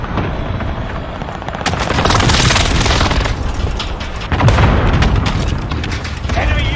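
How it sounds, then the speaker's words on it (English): Precision airstrike explosions in Call of Duty Warzone, a loud sustained barrage of booming blasts and rattling gunfire-like impacts rolling on for several seconds, with a fresh heavy burst partway through. "Enemy precision airstrike!"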